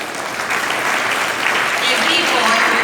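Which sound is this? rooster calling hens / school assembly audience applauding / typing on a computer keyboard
school assembly audience applauding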